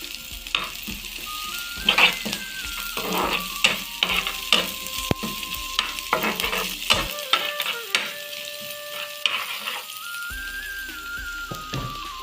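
Green chillies and curry leaves fry in hot oil for a vegetable cutlet, a steady crackling sizzle punctuated by repeated scraping stirs of a utensil in the pan, with occasional faint whistling tones in the background.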